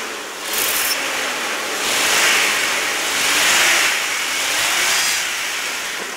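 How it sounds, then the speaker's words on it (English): A black 1996 Jeep Grand Cherokee 4X4 with a 4-liter straight six revs up in three or four rising swells, each roaring up and then easing off, over a steady rushing background. "let's rev her up and see what she sounds like"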